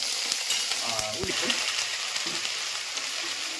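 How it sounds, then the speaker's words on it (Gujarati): Mustard seeds and cumin hit hot oil for a khichdi tempering, giving a loud, continuous hissing sizzle dotted with small crackles, with a brief murmured voice early on. "તેલ ગરમ થઈ જાય એટલે એની અંદર આપણે ઉમેરીશું રાઈ થોડુંક જીરું"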